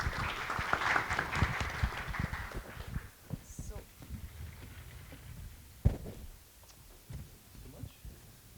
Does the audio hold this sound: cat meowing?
no